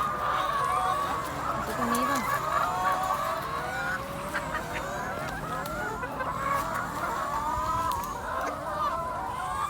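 Laying hens cluck and squawk continuously in a close, busy flock, overlapping calls rising and falling with no pause.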